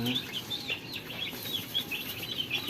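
Six-day-old Rhode Island Red and Black Australorp chicks peep in a steady run of high, brief chirps close by, with faint background voices and rustling under them.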